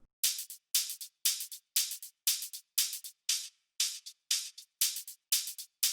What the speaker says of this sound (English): add super simple closed hi-hat from Production Music Live